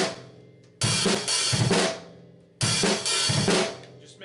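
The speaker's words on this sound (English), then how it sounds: "You can do a double kick there with one foot," Bass drum double kicks played with one foot on a drum kit during a cover song, heard in two loud bursts of full drumming with cymbal wash and a sustained hum between them.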